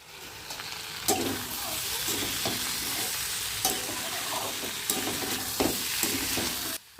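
Vegetarian curry cooking in a pan, a steady sizzle with repeated scraping stirs of the spatula throughout, close and unaccompanied by speech.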